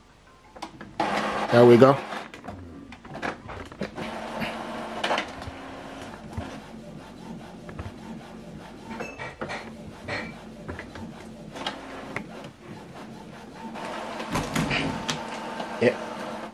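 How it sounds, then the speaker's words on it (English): An Epson XP 5150 inkjet printer prints a nozzle check pattern, with mechanical whirring and the print head shuttling back and forth. The louder bursts come near the start and the end, and a person speaks briefly. "Okay, so right now it's printing."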